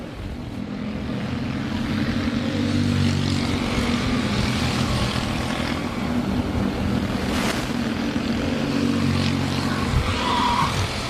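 A dirt-track race car spinning out in turn 2 at the POWRi Cactus Cup Nationals, heard as a continuous loud engine roar with tire skidding across a wide, noisy track ambience, no talk.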